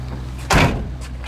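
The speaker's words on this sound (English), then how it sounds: "The door's shut really nice on the car." A 1969 Chevelle's door shuts with a single solid thud, a short, loud impact standing out close by over a low steady background hum.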